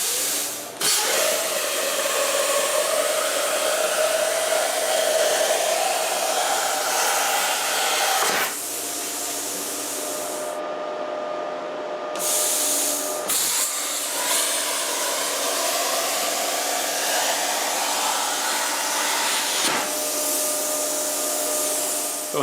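A bandsaw cuts through a driveshaft tube during a 4x4 Ranchero driveshaft extension, giving a loud, steady grinding whine that runs nearly unbroken, with a brief dip partway through and no talking.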